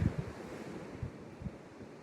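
Low rumbling surf with a few soft wave thumps, steady wind noise across the microphone, no voices.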